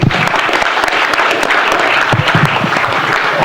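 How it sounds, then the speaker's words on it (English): Loud, close audience round of applause at a metro council meeting, vigorous steady clapping from many hands filling the whole stretch without pause. "Y'all, let's give him a round of applause,"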